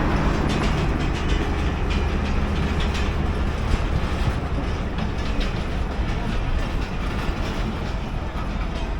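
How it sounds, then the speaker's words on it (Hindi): The Awam Express, pulling new coaches, rolls out of Lahore toward Peshawar with loud, continuous rumbling and clickety-clack of wheels on rail, close and steady throughout with no talking. "अवाम एक्सप्रेस लाहौर को छोड़ रही है और पेशावर की तरफ अपनी मंजिल को गामज़न है"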